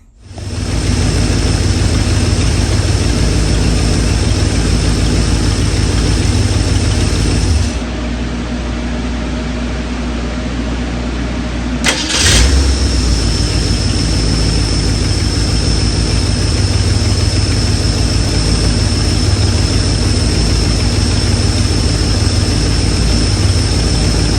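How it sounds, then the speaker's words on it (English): A Ford Mustang engine cranks and fires after a spark plug, plug wire and oil change, then idles loudly and steadily up close. The idle dips for a few seconds, a sharp clunk follows, and it settles back to a strong, even rumble. "We're gonna spin this thing over, let some oil circulate around, then we're gonna start it."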